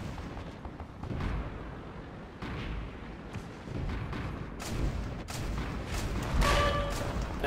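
Tank cannon shots boom in an armored combat video game, a few heavy, close blasts with rumbling tails, scattered across the stretch without talk.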